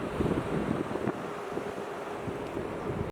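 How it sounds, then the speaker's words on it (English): Cold wind buffets the microphone steadily at Arashiyama in Kyoto, Japan, a constant rough roar with low gusty rumbles and no voices. "It is so cold here with the wind"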